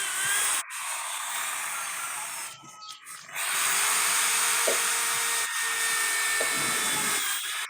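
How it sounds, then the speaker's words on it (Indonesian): An electric drill whirs steadily, boring holes through a stack of paper for binding, a continuous high buzzing motor sound with a brief drop partway through before it resumes. "untuk melobangkan kertasnya kita bisa pakai bor"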